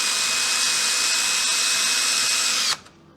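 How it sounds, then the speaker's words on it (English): A small electric drill spinning a tiny bit, used while fitting panel pins, whines loud and steady at close range for nearly three seconds before cutting off abruptly into near silence. "I'm using this drill, this tiny little drill bit."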